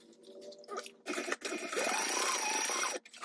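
A sewing machine runs a basting stitch through fabric at an eighth-inch seam allowance, a couple of short bursts followed by a steady, fairly loud mechanical whir lasting about a second and a half before it stops.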